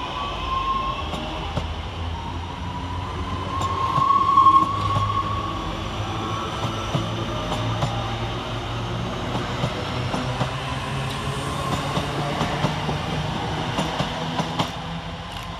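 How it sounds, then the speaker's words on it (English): Class 323 electric multiple units, 323-217 and 323-240, pass through Duddeston railway station on a Four Oaks to Redditch service, a steady, fairly close rail rumble with wheel clatter that swells briefly early on. "Next to depart for West Midlands Rally is 323-217 and 323-240"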